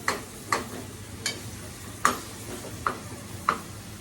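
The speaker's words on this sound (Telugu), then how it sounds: "ఇవి కొంచెం ఫ్రై అయిన తర్వాత పుదీనా వేసుకుంటాం" Ginger-garlic paste and spices frying for Telangana-style goat head curry, a steady sizzle with a spoon scraping the pan in regular, evenly spaced strokes close by.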